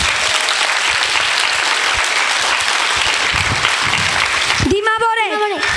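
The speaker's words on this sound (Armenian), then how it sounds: "Եկեք բարձր ծափահարենք։" Loud, dense applause from a crowd at a vocal studio concert fills the room steadily for several seconds, then stops abruptly as a single voice begins speaking.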